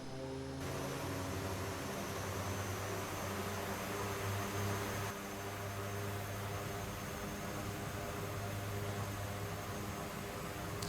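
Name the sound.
DHC-6 Twin Otter engines in flight, X-Plane 11 video game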